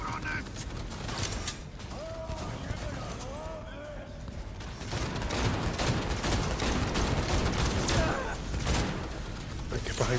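Pistol and other gunfire against a mech in the video game Cyberpunk 2077, with repeated shots and mechanical clatter in a busy combat mix, growing denser in the second half.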